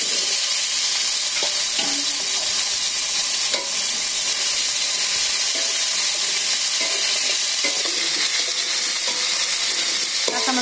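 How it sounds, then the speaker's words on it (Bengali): Raw fish frying with boiled potatoes in a pan in a Bangladeshi village kitchen, a steady loud sizzle with occasional stirring scrapes running the whole time and no voices. "কাঁচা মাছ দিয়ে দিলাম, সাথে ভাজা হয়ে গেছে।"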